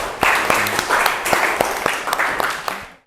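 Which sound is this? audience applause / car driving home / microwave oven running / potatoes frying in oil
audience applause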